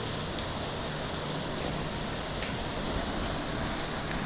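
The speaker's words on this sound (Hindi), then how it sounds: "मैं भीग गई बारिश में" Heavy rain pours steadily in Delhi, a dense, continuous hiss of drops on surfaces that stays loud and even throughout, with no voices.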